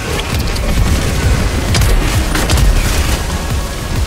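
Rail cannon fire aimed at a Hulk in Helldivers 2, heavy booming blasts buried in a dense, continuous roar of battlefield noise with sharp cracks standing out near the middle.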